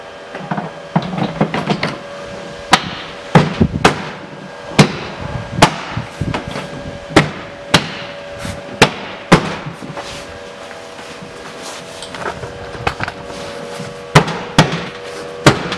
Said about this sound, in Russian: Беру обшивку и устанавливаю ее.